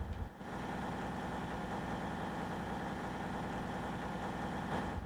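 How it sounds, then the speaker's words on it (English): A train engine in Train Sim World 6, on the West Coast Main Line from Birmingham to Crewe, drones continuously through open doors with a low, even idling rumble that fills the whole stretch. "we got a lot of outside engine noise when the doors open"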